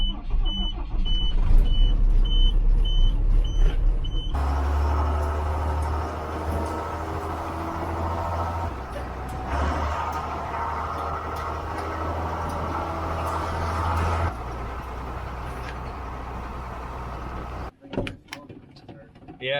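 A farm truck's engine runs steadily for a short move to the next field, with a door thud and beeping before the drive and a clunk at the end.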